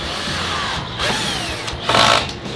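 A power drill bores a pilot hole into a wooden post for a Japanese-style minimal house door, its motor whining steadily and rising sharply near the end of the short burst.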